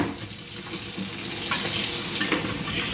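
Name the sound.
washing hands under a running tap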